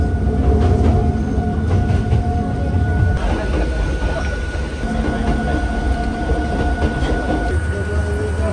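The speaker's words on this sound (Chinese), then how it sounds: "所以我们途中就在这个大雅平台车站，然后要搭登山电车到香根汤本。" A Hakone mountain railway train rumbling close by, with continuous heavy wheel and motor noise, steady rattling and faint squealing over several seconds.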